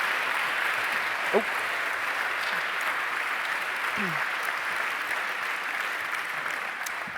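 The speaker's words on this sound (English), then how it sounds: "the applause was fairly strong." Steady, strong audience applause filling a large conference hall during a grand finale event, continuous and even throughout with a brief voice cutting in over it.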